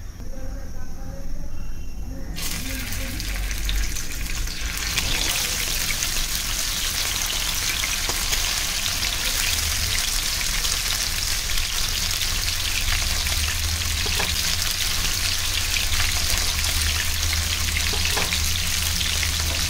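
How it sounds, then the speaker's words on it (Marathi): Bangda mackerel frying in hot oil, a loud continuous sizzle and crackle that flares up after a few seconds and holds steady, close to the pan, with no talk. "तेल चांगलं कडकडीत तापलं की आपण बांगडे फ्राय करून घ्यायचे."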